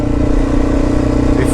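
An adventure motorcycle climbs a forest hill, its engine droning steadily close by with a low rumbling tone for a moment.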